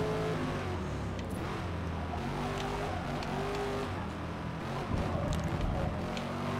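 A 1967 Ford Mustang Boss V8 in the racing game Forza Motorsport at Lime Rock Park, a loud continuous engine drone with rising and falling revs and shifting gears, heard alone.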